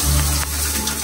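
Water pouring from a shower in a New York lodging, a loud, dense rushing spray with a low steady drone underneath, brief and uninterrupted.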